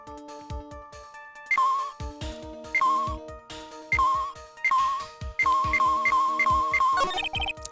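A cell phone ringtone plays in the video game Phoenix Wright: Justice for All, a repeating electronic melody of bright beeping notes over a plucky synthesized backing, fairly loud and alone.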